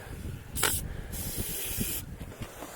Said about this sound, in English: get a good spray in there